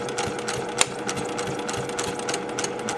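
A sewing machine stitches a quilt-as-you-go block along a quarter-inch line, giving a fast, steady mechanical whir close by with rapid, even needle pulses and one brief knock.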